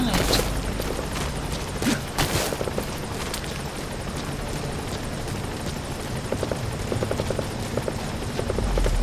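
The support helicopter in Metal Gear Solid V thrums as a continuous rotor wash, with scattered gunfire cracks and booms over it and faint game voices now and then.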